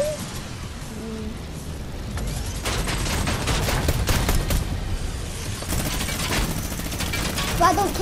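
Rapid gunfire bursts from a Fortnite match, dense and clattering under steady game noise and a player talking over it.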